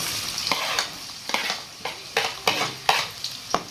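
Sliced onion frying in oil for gobi fried rice, stirred with a spoon in repeated scraping strokes about every half second over a steady close sizzle, with no talk.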